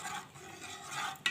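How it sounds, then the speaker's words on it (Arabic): A quiet, steady stirring of milk pudding (muhallabia) thickened with starch and sugar in a pot, soft scraping with a brief sharper tick near the end. "نقلب هنا مع التقليب لما النشا بتاعتنا تربط"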